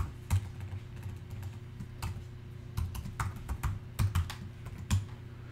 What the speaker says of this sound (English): Actually, I got to put my password in.